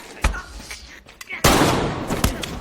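Sharp film gunshots crack out, a couple of loud close bangs with short echoing tails, set among tense sound effects.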